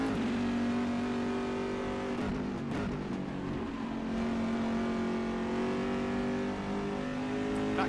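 Race car engines in the rFactor 2 sim racing game, with GTE and LMP2 cars lapping Silverstone, hold a loud, continuous, high-revving drone that rises and falls slightly throughout, with no speech.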